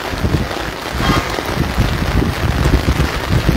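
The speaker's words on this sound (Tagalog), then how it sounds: "So lumalakas na naman yung ulan." Heavy rain pours outdoors by an SM mall parking area in Marikina during a flood watch, a loud, dense, continuous roar with wind buffeting the microphone and no one speaking.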